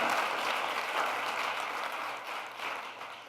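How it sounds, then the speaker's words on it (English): A crowd of best-selling authors at a speaking event in Hollywood, California claps steadily, a dense and loud burst of applause that holds throughout and eases off slightly at the close. "give yourselves a round of applause."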